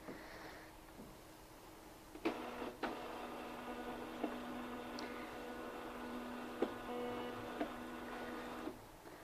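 A Zebra TLP 2844 barcode label printer prints one label on a slow setting, giving a steady quiet whirring. A few sharp clicks stand out, and no voices are heard.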